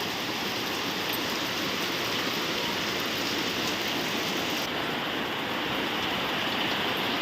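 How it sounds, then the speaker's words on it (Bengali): Rain pours steadily outdoors in the morning, a dense, even hiss with no breaks, loud and close throughout. "এই দেখো বৃষ্টি হচ্ছে"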